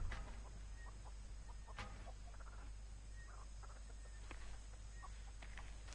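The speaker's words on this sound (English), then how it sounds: "I hear chickens." Faint chicken clucks from a barn in the game The Texas Chainsaw Massacre scatter irregularly over a steady low hum, several soft calls near and far, with no talking.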